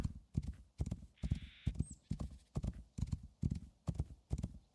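Horse hooves beat out a steady, even trot in the game Rising World, close and clear thuds repeating about twice a second, with a short hissing burst and a brief whistle-like tone partway through.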